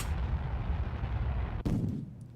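Ship weapons firing in a space-program game, a sustained rumbling barrage ending in a sharp blast followed by a booming tail, loud and close.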